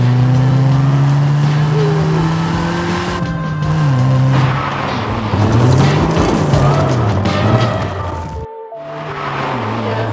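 A bright orange Mazda MX-5 Icon Edition with a 1.8 litre engine drives hard, its engine loud and close, revving and dropping through gear changes, with a brief cut to silence near the end.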